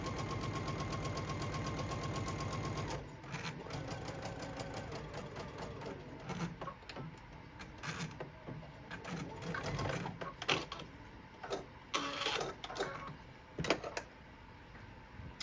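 A sewing machine stitches a Tree of Life quilt block, running steadily at first, then breaking into irregular bursts and short stops as the fabric is guided under the needle.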